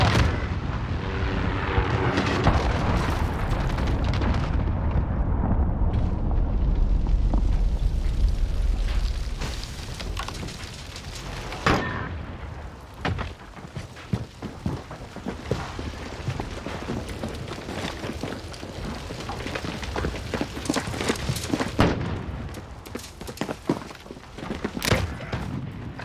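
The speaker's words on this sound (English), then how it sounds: "Allied cruise missile launched." Cruise missile strikes in Call of Duty multiplayer, a long heavy rumbling roar building for several seconds and then breaking into a dense run of booming blasts and crackling explosions, loud and close.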